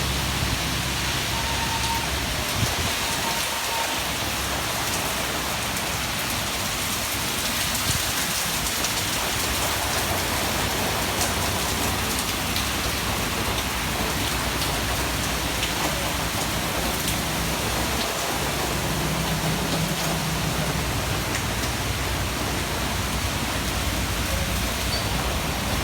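Heavy rain pours down by the sea in Thailand, a dense, steady broadband hiss that lasts throughout with no pauses and no voices.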